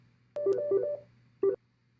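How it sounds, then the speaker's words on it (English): A mobile phone rings during a maths lesson, giving a short two-tone electronic warble that plays for under a second, pauses, then sounds again briefly, fairly quiet and alone. "my phone's ringing here"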